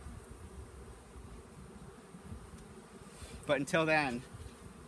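Honeybees buzz around a small package hive being built up toward a Langstroth hive, a steady low hum near the hive with a brief louder swell. A voice speaks briefly toward the end.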